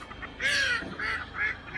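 Loud, nasal quacking from ducks close by, three or four honking calls in quick succession.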